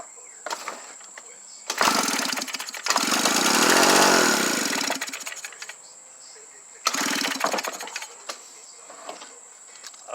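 A Stihl BR420 backpack blower engine is pull-started, catching with a loud rising roar that runs a few seconds and dies, then fires again in a second burst, close up.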